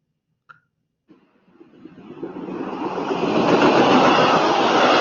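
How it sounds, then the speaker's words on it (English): A train approaches from silence after a brief click, its rumble and clatter swelling steadily into a loud, sustained roar that fills the end of the clip. "It's a train, right?"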